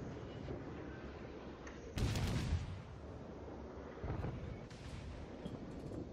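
Naval guns firing in the World of Warships video game, two heavy booming salvos about two seconds apart over a steady low rumble of game background noise.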